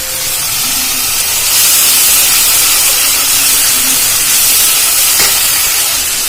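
Food sizzling in hot oil while cooking dhokar dalna, a Bengali lentil-cake curry: a steady, close, bright hiss that swells slightly midway and carries on alone with no talk.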